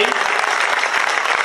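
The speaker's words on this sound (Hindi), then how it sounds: "तालियां बजती रहनी चाहिए।" Applause from an audience at a public gathering is a dense, continuous patter of many hands clapping close by. It is steady and fairly loud for the short stretch.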